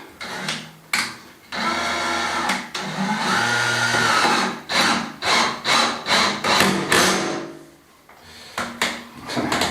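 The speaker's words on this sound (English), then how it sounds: "I'm going to drill it through from this side" A power drill with an auger bit whirs steadily through wood, then bites in a series of rhythmic surging bursts, close and loud, before stopping.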